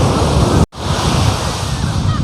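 Ocean surf rolls onto the beach at Puri as a loud, continuous wash of broadband noise, roughened by wind on the microphone. A brief dropout interrupts it near the start, and no one speaks.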